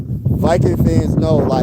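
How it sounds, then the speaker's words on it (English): Outdoor wind buffets the microphone in heavy low rumbling gusts while someone talks over it throughout. "sorry about the wind, y'all. It's a little windy out here."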